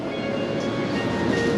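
Hiroshima streetcar tram interior with a steady rolling rumble and broadband rattle throughout, constant and fairly loud, no voices.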